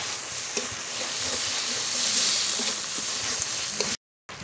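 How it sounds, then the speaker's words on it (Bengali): Chopped tomato tipped into spices frying in a pan for a rustic sea crab curry, giving a steady loud sizzle and hiss with a few stirring clatters, then a sudden cut to silence. "মশলা একটু ভেজে নিয়েছি, এবার টমেটো কুচি দেবো।"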